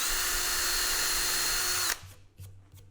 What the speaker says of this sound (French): Donc, je le mets en bout et j'ai juste à percer. Et ensuite, en bout, je fraise.